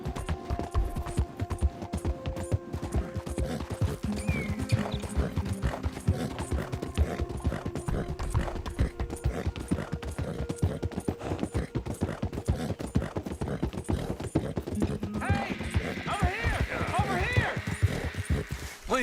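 Horse hooves clip-clopping at a steady trotting rhythm in the open-world western video game Red Dead Redemption 2, with in-game music or ambience underneath and a voice talking over it.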